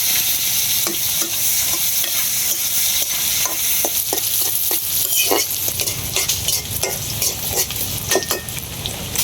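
Fish sizzles steadily as it fries in a pan in a home kitchen, a continuous loud hiss broken by scattered clinks and scrapes of a utensil stirring and turning the pieces.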